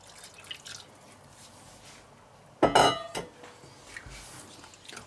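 Liquid poured into a chicken curry rice pot with pineapple, heard as a brief clinking splash in the middle against a quiet kitchen background, followed by a few faint drips.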